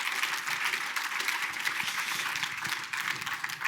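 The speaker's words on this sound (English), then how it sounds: "Give them one more round of applause." Steady round of applause from an awards ceremony audience, a continuous wash of many hands clapping at moderate volume throughout.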